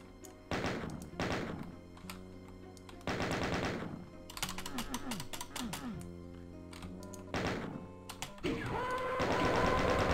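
Weapons fire in the Doom II game: heavy, thumping shots in several separate bursts, with rapid repeated blasts in the middle and a rising roar of game effects at the end.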